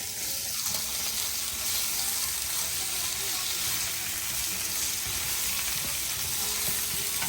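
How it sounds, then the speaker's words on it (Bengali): Eggplant pieces frying in oil with turmeric and salt, a loud steady crackling sizzle heard close up, with occasional stirring and no talk. "বেগুনগুলো ভাজা করে নিচ্ছে"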